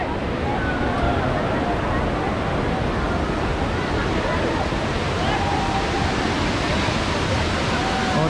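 A steady, roaring rush of falling water at Jatmai waterfall in Gariyaband, Chhattisgarh, with crowds wading in, broad and constant, with faint crowd voices blended into the wash.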